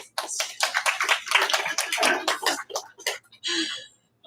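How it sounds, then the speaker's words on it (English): A small open-mic audience claps for a performer, a burst of dry, close handclaps that thins out into a few scattered claps and then stops. "Clap for Chloe"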